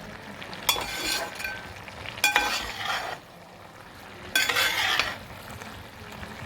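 Aviyal, a mixed vegetable curry, stirred in a pot: three separate bursts of scraping and sizzling with soft clinks, separated by quieter gaps of low simmering.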